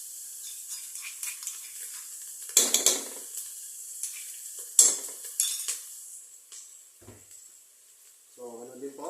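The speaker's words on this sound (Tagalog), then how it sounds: "pwede na po ilagay ang ating bawang" Crushed garlic sautéing in a pan for beef papaitan: soft sizzling with a few scraping stirs of a utensil against the pan, and someone talking over it.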